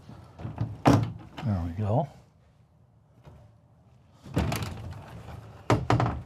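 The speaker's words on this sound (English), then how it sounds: "we do have a nice privacy door" A privacy door in a motorhome bedroom is pulled shut with a soft thunk and sliding rattle, surrounded by close talking.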